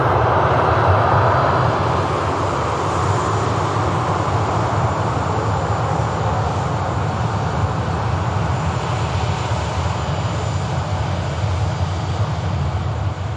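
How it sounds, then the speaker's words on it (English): Airbus A321neo jet arriving from Istanbul at Manchester Airport, a loud, steady, close engine roar with broadband rumble held for over thirteen seconds, easing slightly toward the end. "A321 Neo, of course, in from Istanbul."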